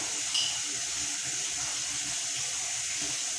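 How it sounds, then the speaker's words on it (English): Hot water poured into a bowl of dry food, a steady close hiss of running water lasting throughout, with one brief brighter splash near the start and no voices. "I forgot to put the hot water in it, this dry food"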